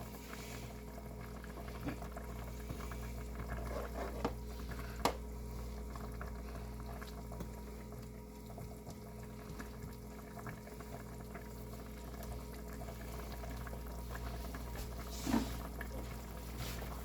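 A low, steady bubbling and simmering drone of water with deer meat heating in a pot, continuous and fairly quiet, with a couple of soft clicks.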